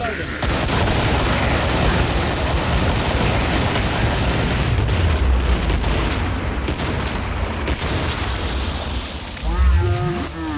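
The Patriarch boss in Killing Floor unleashes its chain gun, a dense, continuous roar of rapid gunfire lasting the whole stretch, loud and close, with other game effects and a voice mixed underneath.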